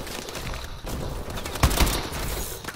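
Gunfire in the video game Call of Duty: Advanced Warfare rattles in a steady dense fusillade with a sharper burst near the middle, loud and continuous throughout.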